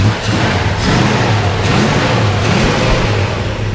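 A 1978 Ford F150 Ranger Explorer 4x4 pickup engine runs loud and close, revving steadily with a deep rumbling drone throughout and no talk over it.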